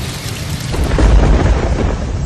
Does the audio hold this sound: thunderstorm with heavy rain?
yes